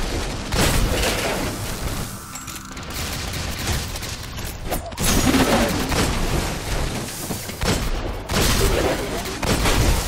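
Rapid bursts of gunfire from shooting enemies in the video game Destiny, dense loud volleys recurring throughout with brief lulls, over the game's background effects.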